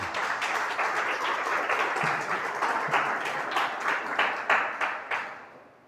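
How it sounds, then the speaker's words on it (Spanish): A church congregation applauds together, a dense, steady wash of clapping that swells into sharper bursts near the end before tapering off, with no voices heard. "Denle un aplauso al Señor."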